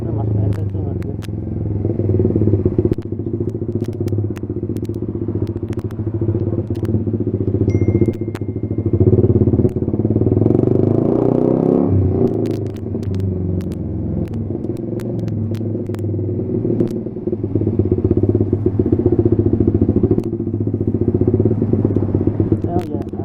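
A Suzuki GSX-R 150 small sport motorcycle engine hums and rumbles steadily while riding, rising and easing with throttle, with occasional clicks and rattles.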